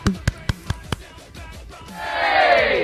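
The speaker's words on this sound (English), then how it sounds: "You can hear the crowds. They are. Yes, they're screaming their happiness for him." A crowd screams and cheers in a rising wash of noise that swells and holds after a quick series of sharp clacks, loud and fairly close.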